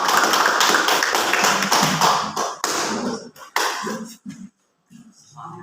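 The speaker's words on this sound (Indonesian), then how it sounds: "Oke, tepuk tangan untuk kita semua." A classroom group claps together in a dense, sustained burst that thins out into a few scattered claps and then stops, with voices mixed in near the end.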